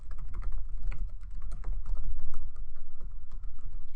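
Rapid, irregular clicking of keys on a computer keyboard, typed close by in quick bursts with brief pauses and no speech.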